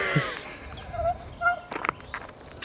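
A turkey at an animal association gobbles in short, quick bursts, fairly close and moderately loud against a quiet background.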